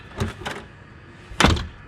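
A door fitted with a new keypad handle is shut: two quick rattling knocks, then a firmer close with a solid thud and latch click, near and loud with no talk.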